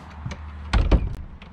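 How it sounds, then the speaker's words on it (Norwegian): A door thuds shut nearby with a solid knock, followed by a second softer bump and faint rattling against a low background hum. "Kanskje jeg lukker en døra etter deg?"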